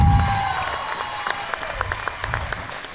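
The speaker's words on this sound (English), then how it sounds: "can we give a huge, huge round of applause for Anthony Jones?" Applause for a fighter at a Hub City MMA fight night, a dense, steady wash of clapping from the crowd that holds for about three seconds with a few sharper claps poking through near the end.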